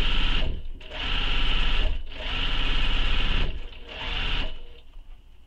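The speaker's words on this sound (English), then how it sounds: "backstitch, and then stitch all the way around that box" A sewing machine stitches a box pattern onto a tote bag, running in three loud sustained bursts with brief pauses between them as the seam turns corners, ending in a shorter, fading run.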